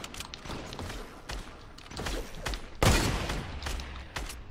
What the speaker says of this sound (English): who's fucking shooting me? The kid on the small house with this little hand cannon